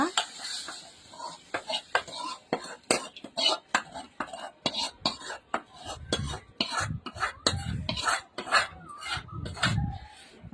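A spoon stirring mutton curry in a cooking pot, producing a long run of rhythmic scraping and clinking strokes against the metal, close and fairly loud, with some low thuds as the thick mixture is turned.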